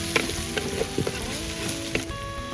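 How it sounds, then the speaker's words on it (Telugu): Curry leaves and green chillies sizzle in hot oil, a steady crackling fry with a few sharp pops and stirring clinks, close and fairly loud with no voices. "ఇప్పుడైతే మన కరివేపాకు పచ్చిమిర్చి వేసేద్దాం"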